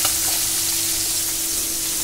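Puti fish sizzle and spit steadily in hot oil in a pan, a loud, continuous close frying hiss with no talking.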